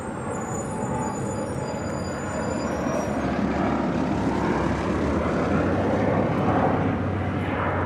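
Airplane on the runway at LAX airport, a loud, continuous jet and propeller roar that swells and broadens midway, sustained without pause and fairly close, with no voices over it.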